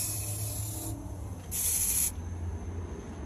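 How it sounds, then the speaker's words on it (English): A lavender room spray is sprayed in two short hissing bursts, the second brighter and louder, close by amid faint background noise. "Lavender room spray."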